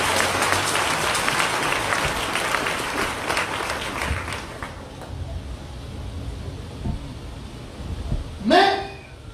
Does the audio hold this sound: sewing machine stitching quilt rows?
no